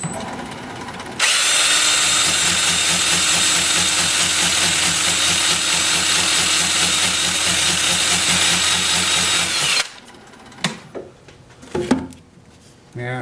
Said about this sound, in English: I don't typically use the Sandoflex with the lathe spinning